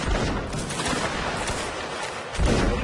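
Musket volley fire in the Napoleonic multiplayer game Mount and Blade: Warband, a dense crackling burst of many shots blending into a continuous roar, with a second loud swell near the end.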